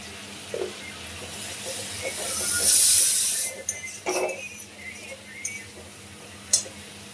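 Coriander and cumin go into hot oil for a cabbage and potato curry, releasing a sudden loud hissing sizzle that swells then fades, followed by scattered spoon clinks and a sharp knock.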